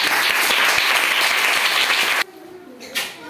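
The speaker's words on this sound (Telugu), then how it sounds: "క్లాప్స్ కొట్టండి" Children in a classroom verb-drilling language game burst into loud, steady clapping for a winner, dense applause lasting about two seconds before stopping abruptly, followed by a quiet room.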